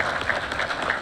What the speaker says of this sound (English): I'll give you a moment to applaud them